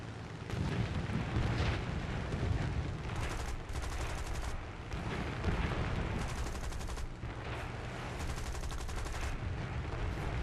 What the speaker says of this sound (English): Let me take a few shots on him.